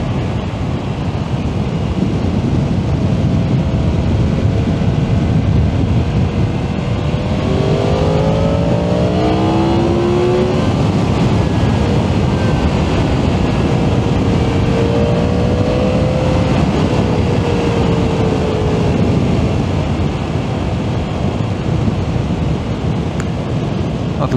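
Yamaha MT-10 SP motorcycle fitted with a Leo Vince Corsa exhaust, ridden at lower revs, gives a loud, steady engine drone under heavy wind rush, with a few gear-change rises in pitch partway through.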